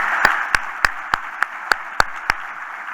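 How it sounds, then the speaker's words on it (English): Audience applause at a charity annual meeting, heard as eight sharp, evenly spaced claps in a steady rhythm over a soft background hiss, closer to rhythmic clapping than a full ovation. "So if we could give this team a round of applause,"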